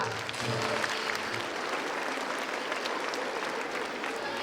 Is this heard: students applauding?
yes